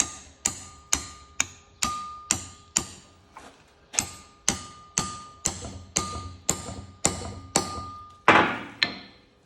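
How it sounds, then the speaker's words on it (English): A bolt hammered into a bread-packed spigot bearing hole, producing about nineteen sharp metallic whacks in a steady, evenly spaced rhythm, each ringing briefly, close and loud. "when you whack it with the bolt, it pushes out and it finds the path of least resistance"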